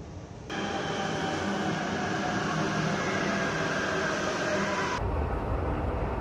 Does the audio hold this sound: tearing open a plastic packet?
no